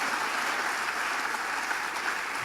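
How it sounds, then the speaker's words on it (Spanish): A church congregation applauds in a dense, continuous wash of clapping that stays loud and steady throughout. "¿Alguien puede darle un aplauso al Señor?"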